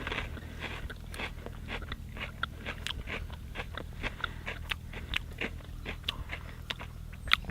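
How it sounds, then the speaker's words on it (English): Someone bites and chews raw sunchoke, giving repeated close, crisp crunches at an irregular chewing rhythm over a low steady background hum, with no talk. "just to sample them raw and just to kind of introduce them to kind of see what they taste like and how they are"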